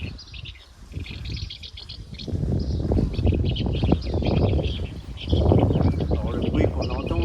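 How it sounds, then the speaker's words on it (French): A special electronic device set up by a bird protection society near a swallow house plays recorded swallow calls, giving continuous chirps and twitters outdoors under steady wind and background noise, with a voice talking over them. "le bruit qu'on entend, il s'agit d'un appareil spécial qui a été mis en place par la LPO, les protectrices des oiseaux, pour essayer d'attirer les hirondelles"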